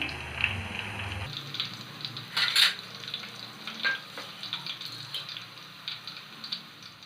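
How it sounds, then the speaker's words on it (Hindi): Puris deep frying in oil on a low gas flame, a continuous bubbling sizzle with stirring and scraping from a slotted spoon, close and moderately loud, with brief sharper spatters, no talking. "पूरियाँ लो फ्लेम पर ही फ्राई करनी है।"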